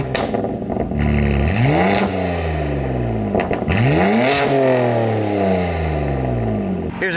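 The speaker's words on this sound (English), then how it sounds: "let me get you guys a quick sound clip of how the Valve Master exhaust sounds." A BMW G80 M3 fitted with a Valve Master exhaust is revved hard twice, each loud, close blip climbing and falling back, with crackles and pops on the overrun between revs.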